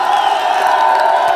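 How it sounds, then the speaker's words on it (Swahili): A crowd of construction workers (steel fixers, carpenters and masons) cheers loudly and steadily, with blended voices and whoops, heard at close range without a break. "Jipigieni makofi bwana."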